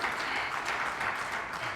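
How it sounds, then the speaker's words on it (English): Applause from a live audience at an SGDQ 2018 speedrun event, a brief, even burst of many hands clapping at moderate volume. "clap for that"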